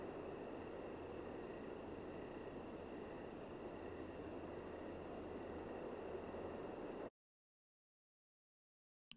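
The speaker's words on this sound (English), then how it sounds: "in this case, I'm going to use this ambient night sound." An ambient night-sound loop of steady broadband hiss and low rumble with faint tonal hums, constant and fairly quiet, cutting off abruptly to silence near the end.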